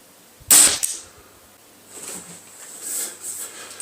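A Weihrauch HW97K spring air rifle fires once, a sharp close crack followed by a short mechanical twang, then faint handling noises.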